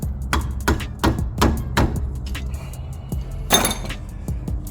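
Several sharp hand chops strike a brake part during a brake job on a Honda Element, landing as a handful of distinct close thuds and clinks in quick succession, with no talking.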